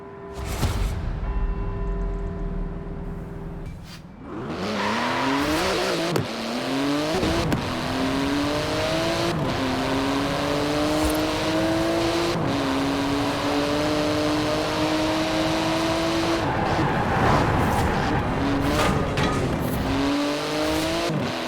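A Porsche GT2 RS's 3.8-litre twin-turbo flat-six, 700 horsepower, roars and climbs through gears in Forza Horizon 4, with rising whines and shifts, loud and sustained.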